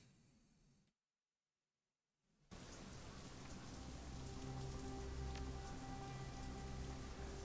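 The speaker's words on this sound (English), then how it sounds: "Foul, oily water rains down from above, mixes with the filth and offal and swill of the streets" Steady rain hisses down over the grimy city streets of Shadowrun: Hong Kong, starting abruptly after a brief silence and continuing as a dense, even wash with low tonal hum beneath.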